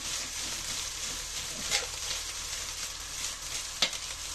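Shredded boiled chicken being stirred in a pan while cooking, a soft continuous scraping with faint sizzle beneath and a couple of sharper utensil clinks, close and quiet.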